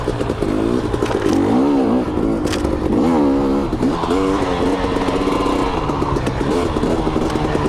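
A 2021 KTM 250 XC two-stroke dirt bike engine revs up and falls back repeatedly during tuning, loud and close, with the pitch climbing and dropping in steady waves.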